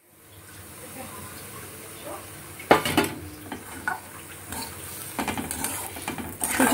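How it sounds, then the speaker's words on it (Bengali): Semolina is stirred in a pan for sweet potato tikiya, giving soft scraping and clinking utensil strokes that grow louder and more frequent toward the end, with faint sizzling underneath. "আমি সুজিটা দিয়ে নেড়ে চেড়ে নেবো।"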